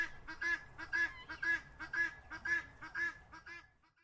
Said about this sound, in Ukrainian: Цесарка.